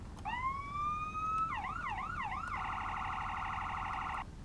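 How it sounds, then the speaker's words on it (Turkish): A synthetic Roblox police car siren sweeps upward, switches to a rapid warbling wail, then settles into a steady pulsing yelp before cutting off. "siren sesleri şöyle"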